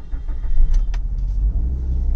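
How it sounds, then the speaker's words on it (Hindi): Maruti Swift petrol hatchback with a gear problem pulling away in second gear, its steady low engine rumble continuous throughout, with a couple of faint clicks or knocks over the drone and no talking. "तो दूसरे गियर पे चुपचाप निकल रहे हम लोग।"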